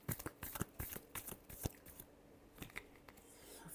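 Tarot cards shuffled by hand in quick riffles, close and quiet, a rapid train of sharp papery flicks with a brief pause near the end.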